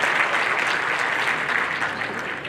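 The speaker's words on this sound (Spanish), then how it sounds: "Hay que darle un aplauso a Aníbal" Dense applause from the crowd at a livestock expo in Palmar Chico, many hands clapping in a thick, even wash that holds steady throughout, fairly loud and with no talk over it.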